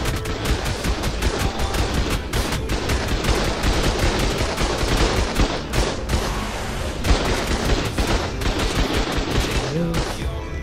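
Sustained automatic gunfire in ARK rattles in loud, dense bursts with sharp repeated shots and booms for several seconds, close and heavy, with voices talking intermittently.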